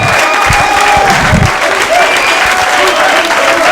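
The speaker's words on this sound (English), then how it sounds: "That's a nice round of applause" Loud, sustained applause from an audience fills the room, steady clapping throughout with a few low thumps early on.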